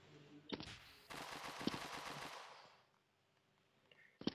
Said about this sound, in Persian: صدا تیر اومد